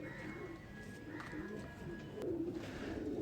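A male Teddy pigeon gives low, soft murmuring coos, faint and close, repeating over a quiet background hum.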